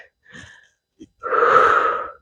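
Deep breathing during a moderate fitness workout: a short inhale, a brief catch, then a long, loud, breathy exhale close to the microphone, with no talking.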